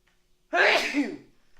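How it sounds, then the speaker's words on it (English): A single loud, close sneeze bursts out after a brief silence, with a short breathy tail. "I'm about to sneeze"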